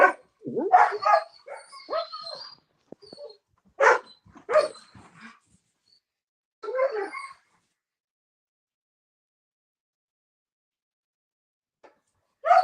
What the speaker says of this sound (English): My dogs are trying to get a part of this.